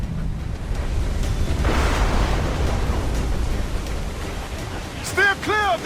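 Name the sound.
water spout at sea in video game Assassin's Creed Black Flag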